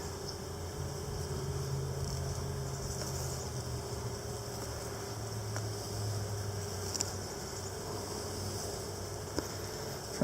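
Honey bees humming steadily around an open hive during a first inspection with a brush, a continuous low drone with a faint insect-like hiss above it and no talking.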